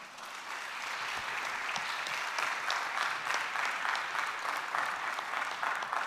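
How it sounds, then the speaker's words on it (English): An audience at a Fulton County voters forum in a church applauds the candidates. The clapping is full and steady, swells a little, then carries on evenly without a break. "Let's give a round of applause to our candidates one more time."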